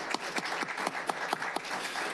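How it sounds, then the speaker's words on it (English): A brief round of applause from the audience at a school board special meeting, a small group clapping in loose rhythm with distinct individual claps, moderately quiet and heard on its own. "I would love to give a quick round of applause to our Board of Education during Board Member Appreciation Week."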